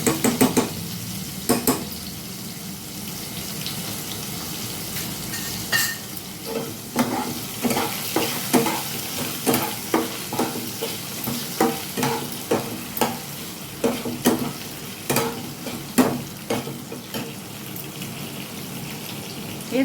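Ginger-garlic paste sizzles steadily in a hot pan while a spoon stirs it, scraping against the metal in a run of sharp, irregular clicks and taps over a constant frying hiss, with no voices.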